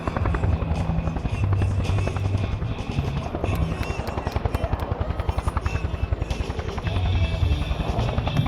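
A Cobra attack helicopter flying at the Atlanta air show, its rotor thudding in a steady loud rhythmic chop with a turbine whine, close and continuous with no talk.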